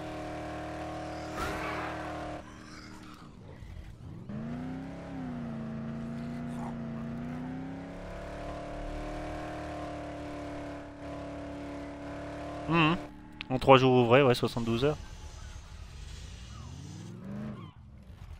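A car in the game Dead Island drives with a droning engine that rises and falls in pitch, then a burst of tire squeal and crunching impact as it crashes, while someone talks over parts of it.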